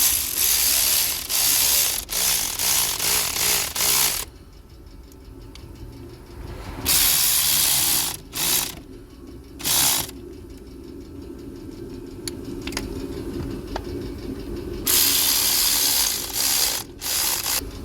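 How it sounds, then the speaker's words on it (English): Electric ratchet driving bolts during a water pump replacement on a 2014 VW Golf 1.4 TSI, long loud whirring runs broken by pauses and short bursts, close up with no speech. "I've just done it with the electric ratchet at the moment."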